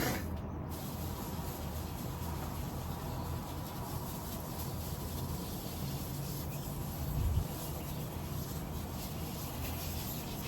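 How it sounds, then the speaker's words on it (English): A hand sprayer mists indoor aglaonema and anthurium plants on a balcony, giving a continuous, even hiss throughout at moderate volume, with no voices. "So I can go a little crazy now with the sprayer."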